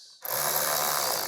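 A ratchet snugging up the filter housing bolts on a 2012-2015 VW Passat TDI B7, one short burst of close, quick clicking.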